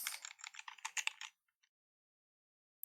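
Fast keystrokes on a computer keyboard clatter close up for about a second, then stop into silence before one more brief tap at the end.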